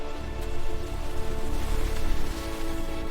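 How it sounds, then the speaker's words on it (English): Heavy rain deluge in an animated kids' film, a dense, steady roar of pouring water with no break and no voices. "The deluge struck with terrifying speed."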